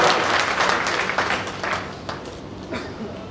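Applause from an audience at a government water-conservation meeting in Botad, a dense spread of clapping that swells and thins over a few seconds, with faint murmuring mixed in.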